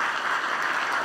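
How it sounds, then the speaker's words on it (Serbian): An audience claps for the performers at a ceremonial academy celebrating 50 years of the ATVSS Vranje department, a steady dense patter of many hands sustained throughout the short moment. "Još jedan aplauz za Dalibora Mladenovića i Velinu Stamenković"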